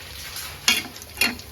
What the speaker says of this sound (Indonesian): Tempe goreng.